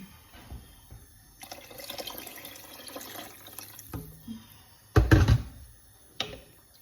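Water runs from a tap and splashes into a cooking pan for lamb shank soup, a soft trickling stream with a few louder bursts and clanks, close by in a quiet kitchen.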